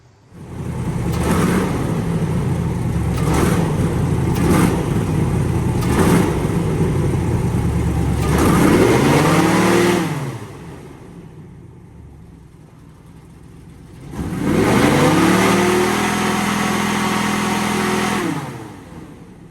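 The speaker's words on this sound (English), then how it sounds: "Typically with the airboats, when you start hitting them with more power, the actual engine speed picks up" Whipple-supercharged LS7 V8 on an airboat revving hard, two long rising pulls of several seconds each after a stretch of steady running, loud and close, dipping to a lower drone in between.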